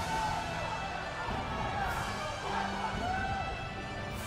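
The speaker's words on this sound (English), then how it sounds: "The crowd showing their respect to this legend." A crowd cheers steadily in the wrestling video game WWE 2K19 as a legend makes his entrance. A continuous roar sits under music and commentary.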